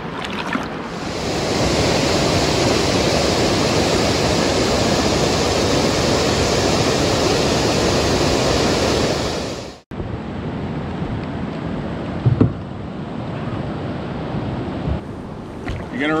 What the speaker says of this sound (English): Looks like we maybe have a waterfall coming up.